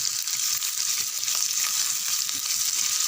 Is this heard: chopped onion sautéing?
yes